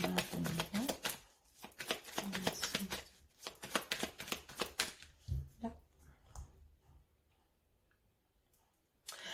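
Lenormand oracle cards being cut and shuffled by hand, with a dense run of crisp riffling flicks and taps up close that thins into sparse soft touches and near-quiet, with a little voice in the background.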